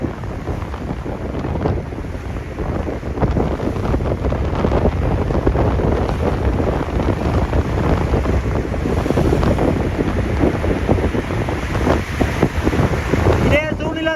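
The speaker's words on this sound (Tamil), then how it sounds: "கடல் சரியான கொந்தளிப்பா இருக்கு" A rough, stormy sea at Jaffna under strong wind: a continuous loud roar of surf and waves with heavy wind buffeting the microphone throughout, steady and dense with no clear pauses.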